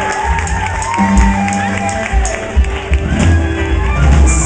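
A crowd at the Windjammer concert venue cheers and claps, with whoops and shouts rising in a loud, dense wash of noise and bursts of talk.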